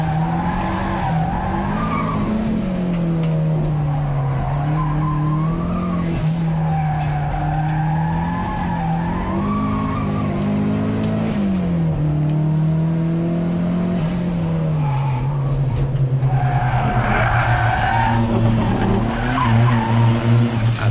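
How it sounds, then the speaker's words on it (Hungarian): A turbocharged Fiat race car accelerates and shifts continuously on a track, engine note rising and falling through gears with tire squeal and turbo whine throughout. "az hallatszik, mikor megjön a turbonyomás"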